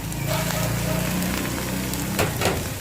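Yakisoba noodles with cabbage and kale stir-frying in a hot pan, a steady close sizzle and rustle running throughout with a couple of sharper scraping stirs near the end.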